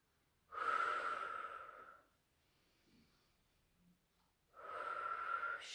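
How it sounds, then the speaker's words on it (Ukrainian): Two long, deep breaths drawn in through the nose during a breathing exercise, close and clear, separated by a quiet pause with faint small sounds. "Вдих, видих глибокий, вдих носом."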